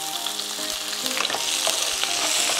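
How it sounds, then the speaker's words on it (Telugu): Curry leaves, two red chillies and a medium onion sliced thin, frying in hot oil: a loud, dense crackling sizzle with stirring scrapes throughout, close and continuous, no voices. "ఇందులో కట్ చేసి పెట్టుకున్న కరివేపాకు వేసేస్తున్నా"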